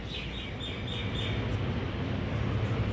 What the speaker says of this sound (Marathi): पोपटांचा आवाज येतो भावांना.